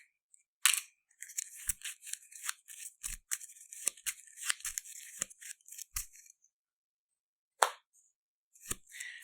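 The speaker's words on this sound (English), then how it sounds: "Shuffle our deck." Arkham Horror LCG game cards being shuffled by hand: a series of short, crisp riffling and snapping bursts close up, in irregular clusters with brief silent gaps and no talk.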